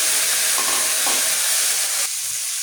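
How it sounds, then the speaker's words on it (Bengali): Green mango pieces for a sweet pickle fry in a pan with panch phoron, giving a loud continuous sizzle as they are stirred, easing somewhat near the end and heard without speech. "আমগুলো দিয়ে সুন্দর করে আমি নাড়াচাড়া করে নেব"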